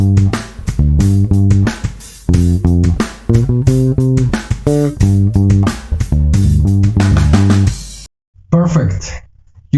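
A guitar plays the choppy main groove of a song in short, rhythmic bursts, close and steady. The playing cuts out briefly near the end and then starts again.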